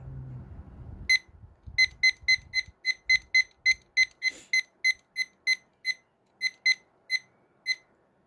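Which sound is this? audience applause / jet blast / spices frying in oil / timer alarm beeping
timer alarm beeping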